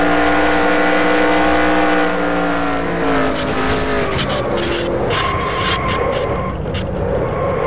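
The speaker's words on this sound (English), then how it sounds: "Onboard Mary Cole, the wreck already in progress." In a racing video game, a race car wreck begins with a loud engine whine falling in pitch. It then becomes a scraping, skidding clatter of sharp knocks and rattles that fills the mix.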